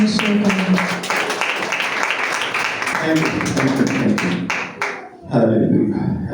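An audience claps loudly and steadily to welcome a bishop at a church gathering, the dense applause running for several seconds, dipping briefly, then swelling again.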